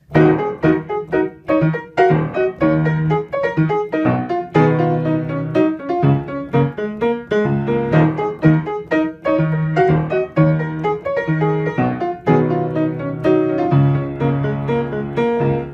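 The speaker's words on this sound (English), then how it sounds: "I'll give you a preview of what the riff sounds like at the start." Steady piano riff played continuously with dense, bright chords and a repeating rhythmic pattern, loud and close throughout.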